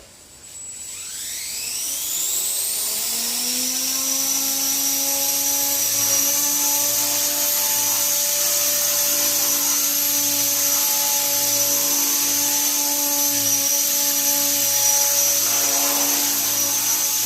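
RC helicopter spooling up in a garage, rising quickly from quiet into a loud, steady high-pitched rotor and motor whine that holds evenly close by, with no talking.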